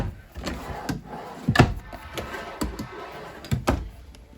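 Drawer slides open and shut in a 2022 Surveyor 202 RBLE travel trailer, a few sharp wooden knocks and bumps spaced through the moment, moderately close with no talk.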